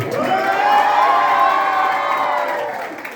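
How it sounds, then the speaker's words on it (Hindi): An audience cheers and claps loudly at a school literary gathering, a rising roar of shouts and whoops with applause, peaking early and tapering off slowly. "जोरदार ताली"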